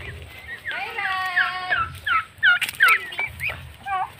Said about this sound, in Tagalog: May mga pabo pa oh.